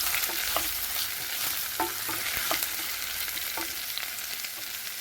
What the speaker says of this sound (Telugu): అది అల్లం వెల్లుల్లి పేస్ట్ చక్కగా ఎగితే మంచి స్మెల్ వచ్చింది